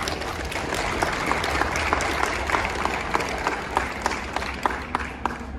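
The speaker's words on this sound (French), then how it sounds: "Je peux mettre faire une pause pour que vous puissiez l'applaudir." An audience at a tournament opening ceremony claps steadily, a dense patter of many hands with a few sharper individual claps standing out, sustained throughout.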